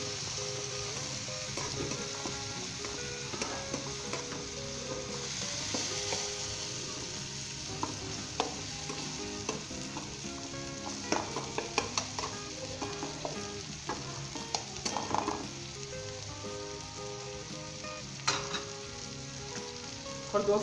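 Spices being stirred into a frying egg, pea and carrot bhujia in Bihari style, with a steady close sizzle and scattered clicks and scrapes of the spoon against the pan, and no voices.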